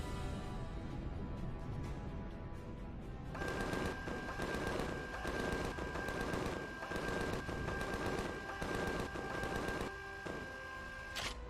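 Ship-mounted guns fire in rapid, steady bursts in the space survival video game Empyrion Galactic Survival, a loud rhythmic rattle over a constant engine hum, pausing briefly between volleys.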